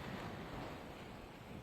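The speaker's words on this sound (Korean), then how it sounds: "파도 치는 것도 그렇고 동해안을 놓은 것 같은 느낌이 들고 있습니다." Waves break on the West Sea coast near a campground at Silmido island, a steady, broad wash of surf with wind, continuous and fairly faint, with no voices.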